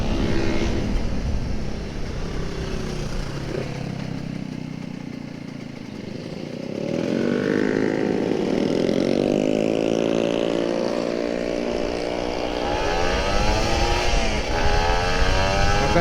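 A Kawasaki Ninja RR 150 motorcycle accelerates on a morning ride, its engine note rising in pitch with each gear pull, close and loud without any talk.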